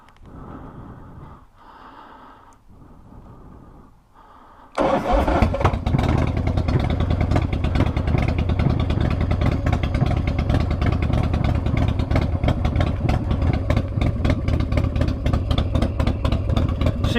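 A motorized bike fitted with a Sportster ignition is cranked briefly, catches after about five seconds, and settles into a loud, steady, rapidly pulsing idle that continues close up to the end.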